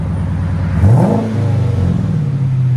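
A Chrysler 300 C/S with a 5.7L V8 and aftermarket exhaust, heard from inside the cabin, revs up sharply once, its deep roar rising in pitch then settling back to a loud, steady rumbling idle.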